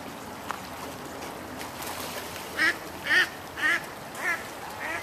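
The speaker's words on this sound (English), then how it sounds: "Duck. You're in my shot." A duck quacks five times in a steady series near a stream, moderately close and clear, over a soft constant background wash of flowing water.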